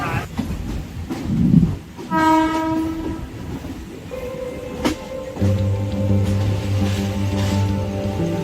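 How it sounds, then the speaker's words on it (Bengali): A Mumbai local commuter train runs on a fairly empty morning trip, with steady rumbling and clatter, a long horn blast early on, and a sustained tonal whine or horn later over the running noise. "মুম্বাই প্রথম হচ্ছে আমি মুম্বাই লোকালে উঠলাম"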